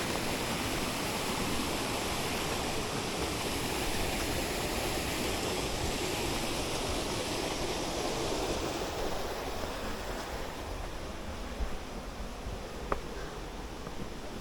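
Water streaming steadily over the low-running Cascades waterfall, a broad, even rushing wash that stays constant and fairly near, fading slightly in the second half, with no voices.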